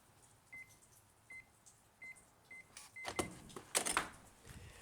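A door code keypad at a public safety building gives a series of short, evenly spaced beeps as buttons are pressed, followed by a louder clunk and rattle of the door.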